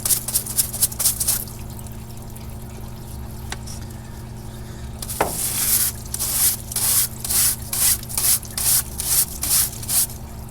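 Brush scrubbing a greasy tractor part soaked in parts washer fluid, with a run of short, rhythmic wet scrubbing strokes that grows louder partway through, over a steady low hum.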